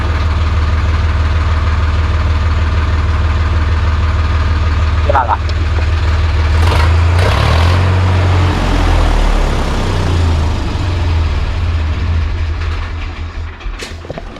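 A tractor engine idles with a deep, steady rumble throughout, loud and close, with someone speaking briefly over it.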